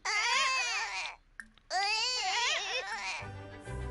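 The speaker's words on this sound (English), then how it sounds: "Why is my child crying?" A Sims 4 game child crying in wailing, pitched sobs, two long cries split by a short gap and a faint tinkle, then trailing off into a low murmur.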